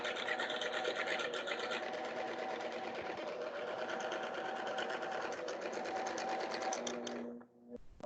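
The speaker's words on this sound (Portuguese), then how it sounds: "Quando eu for overlocar aqui" An overlock serger runs continuously at steady speed, stitching fabric in a sewing class with a dense, even mechanical whir before stopping abruptly near the end.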